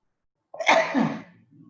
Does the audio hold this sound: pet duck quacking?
no